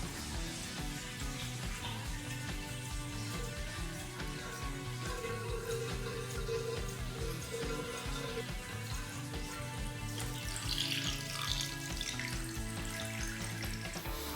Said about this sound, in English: I ran it under tap and even gave it a little swim in the sink, no leaks